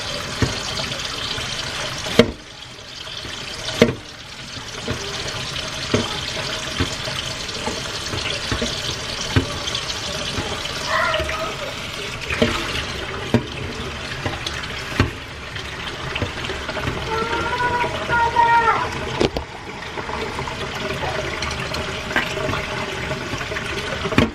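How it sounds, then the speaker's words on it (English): Water running and pouring into a bowl of dry pupusa masa as dough is mixed by hand, a steady splashing, trickling flow over a continuous watery hiss, fairly close, with small knocks from handling the mixture. "I want to put water in there."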